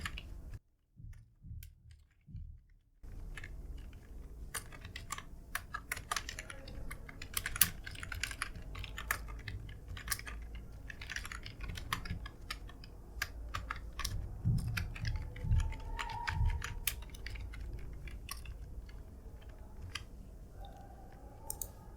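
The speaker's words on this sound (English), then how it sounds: "I'm just typing a simple code that's print subscribe now" Continuous typing of C code on a MacBook computer keyboard, with close, crisp key clicks in a quick, uneven rhythm that runs steadily for about twenty seconds after a brief quiet opening.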